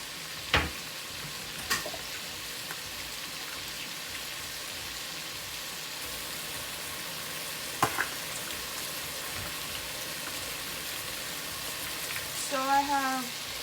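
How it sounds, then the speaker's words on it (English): Brown stew fish sizzles steadily in a pot as water is added, a constant close frying hiss with a few sharp clinks and knocks, and a brief voice near the end. "I'm just going to add our water."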